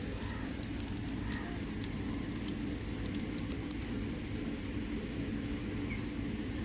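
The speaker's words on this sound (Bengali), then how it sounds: "অল্প একটু গোটা জিরে ফোড়ন দিয়ে দিচ্ছি" Whole cumin seeds and bay leaf sizzling in hot oil while cooking chicken masala chaap, a steady dense crackling hiss that stays even throughout with no talk.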